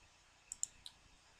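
A computer mouse clicks three times in quick succession, faint light taps over a quiet background with no talk.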